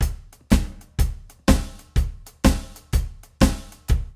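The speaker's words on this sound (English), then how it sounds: "Later on, we also started to see a heavier backbeat being applied, and then the groove would sound more like this." 1940s drum kit groove leaning toward early rock and roll, a steady beat with a heavy snare backbeat, each hit sharp and loud, played alone at a regular pace.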